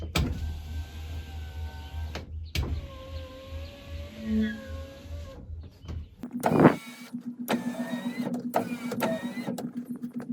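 Rewired power windows on a Mercedes C400 with its doors removed whirr as electric motors run, several distinct motor runs with a steady hum and short stops, fairly close and with no talk.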